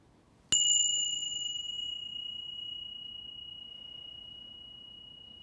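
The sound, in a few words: meditation bell ringing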